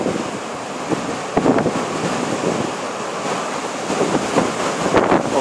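Strong October storm wind in Denmark, roaring continuously with loud gusts buffeting the microphone and surging repeatedly with no voices.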